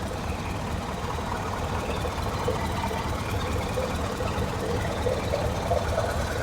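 An old four-cylinder Caterpillar engine runs steadily at a heavy plant gathering. It gives a continuous, fairly loud, rough idling rumble with a slight knocking texture and no voices.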